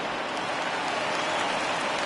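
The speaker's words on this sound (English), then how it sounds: "the home crowd is loving it" A home crowd in a baseball video game cheers at the final out, a steady, dense roar of applause and voices that fills the whole stretch without letting up.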